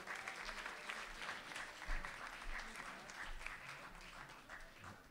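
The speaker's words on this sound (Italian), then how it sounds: "Un applauso al Presidente Fucito." A crowd applauds Naples city council president Sandro Fucito as he is invited onstage at a school film gala. The clapping is sustained and fairly faint, heard from a distance with a low rumble beneath.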